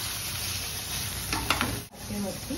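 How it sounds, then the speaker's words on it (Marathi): Paneer slices roast on a hot pan, giving a steady close sizzle and a brief spatter of crackles near the middle. "गरम पॅनवर हे पनीरचे तुकडे पसरवून ठेवले."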